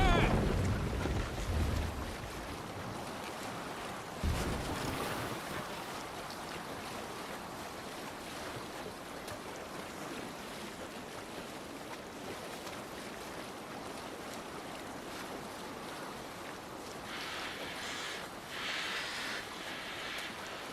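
A Viking longship sails across open ocean in Assassin's Creed Valhalla, with soft wind and washing waves that open with a brief louder surge and then settle into a faint, steady sea bed.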